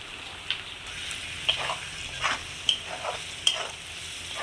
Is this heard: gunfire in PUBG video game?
no